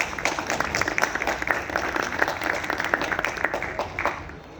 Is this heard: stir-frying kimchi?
no